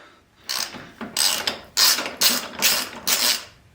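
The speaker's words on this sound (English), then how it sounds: "Now we're gonna crack the axle nut." A ratchet wrench cracks loose the axle nut on a Harley-Davidson Road Glide motorcycle, giving about six bursts of close, loud clicking strokes separated by short pauses.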